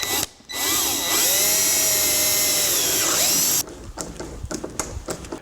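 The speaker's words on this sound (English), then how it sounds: "Now I'm going to pre-drill the holes to" A drill pre-drills screw holes in a metal door frame for a door strike installation, whining steadily at close range for about three seconds before stopping, followed by light knocks and handling noises.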